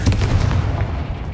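A Confringo blasting spell in Hogwarts Legacy lands as a loud, deep, booming blast with rumbling low energy that rolls on and fades over about a second.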